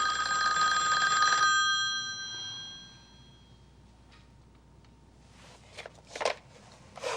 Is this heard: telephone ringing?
yes